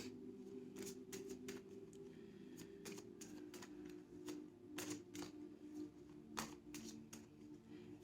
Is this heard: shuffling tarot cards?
yes